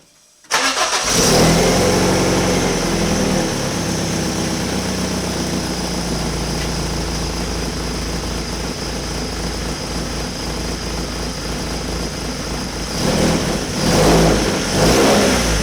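A freshly tuned-up drift car's engine turns over and catches, then idles and revs steadily at close range, with a couple of sharper throttle blips near the end; no one speaks.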